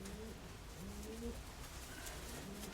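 Soft cooing of solid blue-grey pigeons in short low phrases, repeated a few times over faint background noise, fairly distant and quiet.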